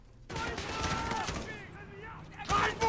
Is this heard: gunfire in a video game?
yes